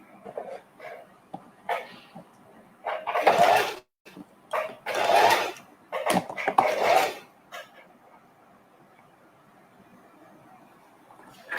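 A sewing machine stitching one fabric onto another, its motor whirring in several short close bursts of a second or two each, separated by pauses and fading to quiet handling noise at the end.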